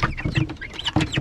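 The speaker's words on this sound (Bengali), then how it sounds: "আর এখানে হচ্ছে সোনালী মুরগি, অনেক বড় বড়ই হয়ে গেছে এগুলো।" Large Sonali chickens cluck in a short burst of close, irregular calls, several quick notes overlapping with no voices.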